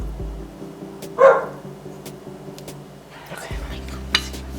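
A dog barks once briefly in the distance, faint against a steady background hum and light household clatter.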